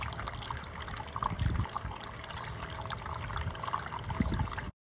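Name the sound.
garden water feature trickling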